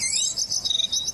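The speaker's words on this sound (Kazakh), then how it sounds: "құстардың сайрағаны," High, rapid chirping and twittering from small birds or insects, light and fairly close, in quick pulsing bursts with no talk.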